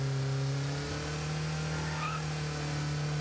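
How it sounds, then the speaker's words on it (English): Indy car engine in the VirZOOM virtual reality cycling game, a steady droning hum that holds level throughout, with a faint brief tire-squeal-like chirp partway through. "So I'm sitting in an Indy car, and you can see that my pedaling is the speed of the car."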